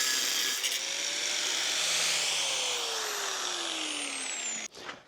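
An angle grinder cuts through a rectangular block of metal, giving a loud, steady, high-pitched grinding whine that holds for about four and a half seconds before cutting off abruptly.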